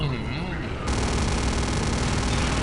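Rapid automatic gunfire rattles loud and dense in Return to Castle Wolfenstein, a continuous stream of shots that grows heavier partway through.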